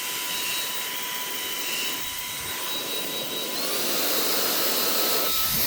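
A Fanttik X100 cordless handheld vacuum runs in blower mode without its filter, giving a steady, loud whining rush of air with a high tonal whine that shifts pitch partway through, with no talking.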